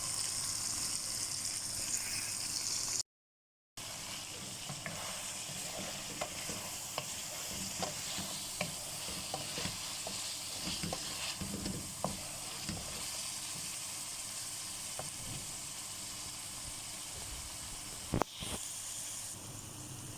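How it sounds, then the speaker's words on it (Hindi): Kalonji chicken karahi frying with yogurt gives off a continuous soft sizzle, with repeated spoon scrapes and clinks against the pot as it is stirred and browned, plus one brief gap and a louder knock near the end. "थोड़ा सा दही और डालें जी और उसको फिर भूनें बस"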